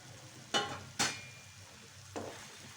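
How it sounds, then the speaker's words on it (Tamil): Fried fish being tossed into a Manchurian masala gives three short scraping, sizzling swishes over a faint frying hiss, close and fairly quiet, with no voice. "இப்போ நம்ம பொரிச்சு வச்சுருக்கிற ஃபிஷ்ஷை இதில் போட்டு மிக்ஸ் பண்ணிக்க போகிறோம்."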